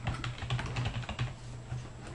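Fingers type on a computer keyboard in a quick, uneven patter of close, crisp keystrokes, steady throughout with a low hum underneath and no speech.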